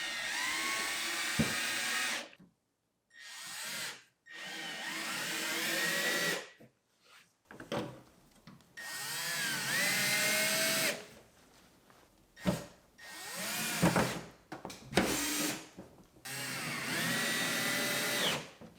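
Power drill with a T30 bit driving screws into a Toyota Tacoma tailgate, 2016-2023 model, in repeated loud whirring bursts of a few seconds each, separated by short pauses, with no talking.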